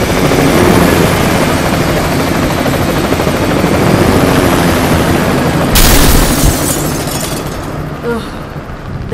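Helicopter lifting off in BloodRayne 2, a loud, dense rotor and engine roar filling the scene, with a sudden booming burst partway through before the noise eases slightly.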